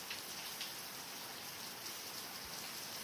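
Heavy rain pours down steadily on a village, a dense, even hiss of countless drops on surfaces with no break and no voices.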